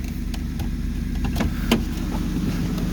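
A 2002 Ford Mustang GT V8 idles steadily after a jump start, a constant low rumble with faint intermittent clicks and ticks above it and no talk.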